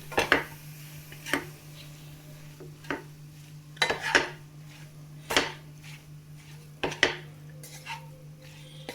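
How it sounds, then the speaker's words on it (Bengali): Grated carrots being fried in ghee in a pan for carrot halwa, with a spatula scraping and knocking against the metal pan in repeated sharp clacks over a low steady hum, close and moderately loud. "আমরা এখানে গাজরটাকে ভালো করে ভাজতে থাকবো।"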